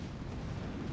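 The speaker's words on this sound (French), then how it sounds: "Vous voyez le boom canon il tire en face." Cannon fire from a boom cannon in the Boom Beach Frontlines video game, a dense continuous low rumble of booming blasts across the second, loud and steady with no clear gaps.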